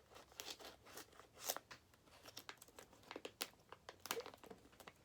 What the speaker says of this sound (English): I'm going to open the bag. Take out my my miniature K-bar and just cut a little slot.